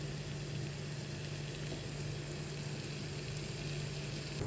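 Chopped tomatoes and green chilies sauté in a hot pan for a squid curry, giving a steady, even sizzle that stays close and continuous with no voices.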